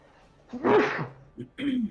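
A single sharp sneeze bursts out, loud and close, followed by a couple of brief softer vocal sounds.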